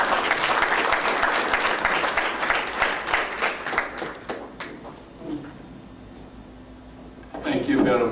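An audience applauds a commissioner at a conference opening session with a dense burst of clapping that tapers off after a few seconds, followed by a quiet pause before a voice speaks briefly at the end.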